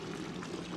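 Water pouring steadily into a container, a continuous splashing rush with a gurgling undertone, close by and without talk.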